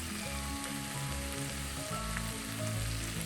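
Curry leaves crackle and sizzle in hot oil in a pan of beans and potato masala, a steady bright hiss with faint stirring underneath and no talking.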